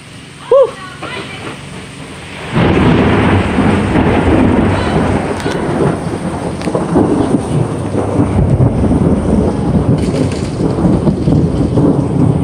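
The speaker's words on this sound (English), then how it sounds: "Lady cutting grass in a thunderstorm." Heavy rain pours steadily through a thunderstorm with a deep rumble of thunder rolling underneath, strengthening from about two and a half seconds on, while a lady cuts grass with a mower nearby; a brief chirp sounds early on.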